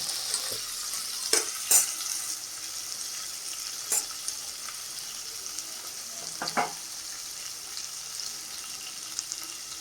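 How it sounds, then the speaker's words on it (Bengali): Prawns fry in a pan for a malai curry, giving a steady, moderate sizzle throughout, broken by a few brief clinks and scrapes from stirring. "চিংড়িগুলো সুন্দর দেওয়া হয়ে গেছে, কড়া এখন ফ্রাই হবে।"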